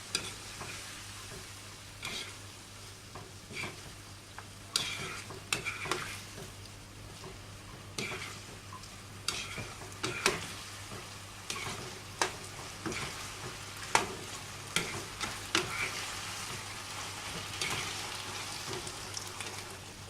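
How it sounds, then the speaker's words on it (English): Chicken Manchurian being stirred in a pan: a soft, low sizzle broken by repeated scraping and clacking strokes of a spoon, irregular and fairly quiet over twenty seconds. "Mix everything well."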